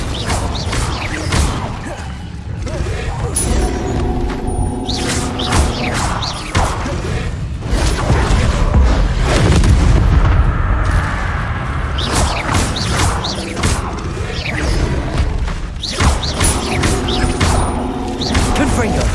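Spell-casting combat in Hogwarts Legacy, fire and disarming spells going off amid a dense, continuous run of whooshes, cracks and crashing impacts with busy game effects throughout.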